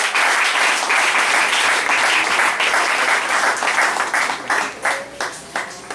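A church congregation applauds for a woman during a service, a loud, dense burst of clapping from many hands that thins toward the end into scattered individual claps.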